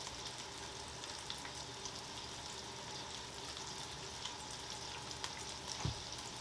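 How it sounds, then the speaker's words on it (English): Oil sizzles on a Blackstone E-Series 17-inch tabletop griddle as a steady, close, even hiss that never lets up, with a few faint ticks over it and nobody talking. "Now I'm going to lay down some oil."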